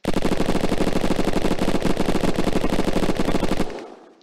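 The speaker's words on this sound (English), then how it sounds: "Alright, that felt like a real MG, at least." An MG34 machine gun in a 1938 alternate-history game mod fires one long, loud, continuous rapid burst of close, evenly spaced shots for over three seconds, then cuts off and the echo fades out.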